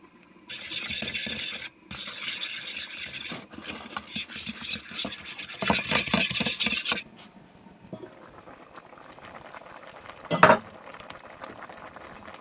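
Wet stirring and scraping as a flour and water mixture is mixed into a stew in a pot, with bubbling liquid and a sharp clink of a utensil near the end.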